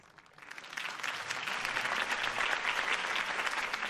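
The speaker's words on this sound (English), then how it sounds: "If only Mr. Wayne, my campaign's largest backer, could have heard that applause" Applause from a crowd in a Batman: The Telltale Series video game scene swells up after a quiet start and then holds steady as dense, continuous clapping.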